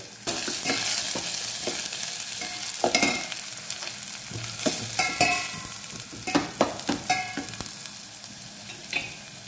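Garlic, green chilies and curry leaves fry in hot oil with cumin for jolada masale mudde, a busy close sizzle broken by repeated spatula scrapes and sharp spitting crackles, growing more active toward the end; no speech.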